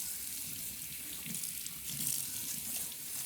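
Tap water runs steadily into a sink as a stainless steel cat water fountain part is rinsed underneath, the stream splashing and shifting slightly as the metal piece moves through it.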